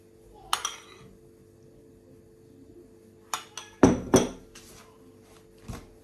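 A large spoon scooping jam from a dish, heard as scattered clinks and scrapes of metal against the dish: a pair early on, a cluster of sharper knocks in the middle and one last tap, close in a quiet kitchen.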